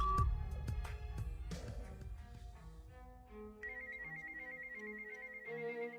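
An electronic ringtone chimes in a repeating melodic pattern, fairly faint, following a few sharp knocks at the start.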